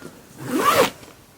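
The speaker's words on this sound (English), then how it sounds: "Zip this section up." A zipper closing one section of a packed travel suitcase, a single smooth pull lasting about a second that rises and then fades, heard close and alone.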